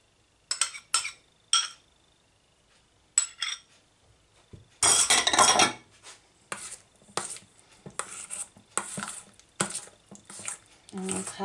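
Gluten-free chestnut cream cake batter being mixed with oil in a bowl: irregular bursts of clinking and scraping utensil strokes, one long loud churning stretch, then shorter stirring clatters, close and alone.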